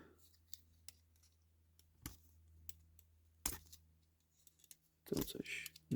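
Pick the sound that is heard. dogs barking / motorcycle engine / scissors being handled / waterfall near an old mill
scissors being handled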